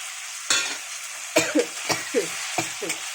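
Tomato and ginger-green chili paste fry in oil in a pan, a soft continuous sizzle broken by several sharp scraping stirs at an uneven rhythm, close and alone.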